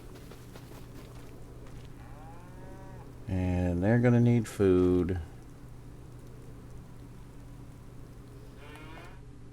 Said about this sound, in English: Let's see how our Highland cows are doing here.